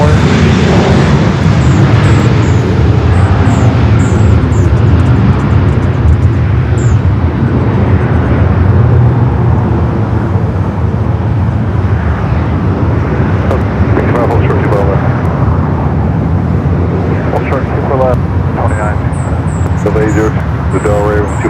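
An airliner takes off from runway 24 Left at LAX, its engines producing a loud, sustained roar and rumble that fills the scene, with a voice talking over it.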